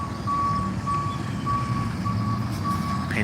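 A truck reversing alarm beeps in a regular rhythm over a steady low engine rumble, fairly close and clear with no talking.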